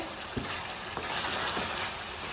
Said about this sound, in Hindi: 4 मिनट हमने इसको इसी तरह भूनना है हाई फ्लेम पे